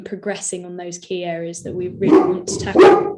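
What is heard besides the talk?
dog barking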